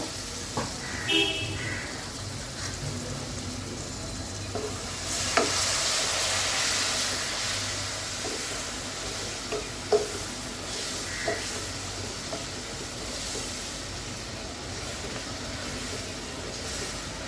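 Ground spices such as cumin being sautéed with a splash of water in a pan for a mung dal and rohu fish head dish, a steady close hiss of cooking with a few soft scrapes and taps of stirring.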